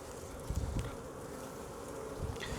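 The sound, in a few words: honeybees buzzing on a hive frame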